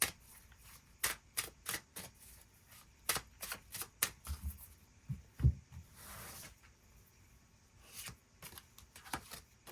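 Tarot cards shuffled and drawn on a table, with a string of sharp close riffling snaps and soft thumps of cards being laid down, quiet between the clicks.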